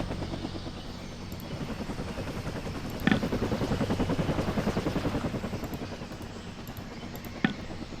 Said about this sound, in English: I want to try to get one of these choppers out here